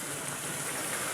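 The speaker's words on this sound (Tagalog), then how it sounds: "Hindi po gaanong malakas ang ulan." A steady, soft wash of broadband noise like light rain falling, even and continuous with no voices.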